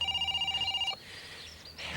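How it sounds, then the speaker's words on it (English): A telephone bell rings with a rapid, pulsing electronic trill for about a second, then stops, leaving quiet room tone. "Phone. Where's the phone?"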